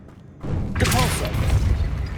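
A Depulso spell is cast in Hogwarts Legacy, landing as a sudden booming thump after a quiet moment, followed by a rumbling, lingering impact.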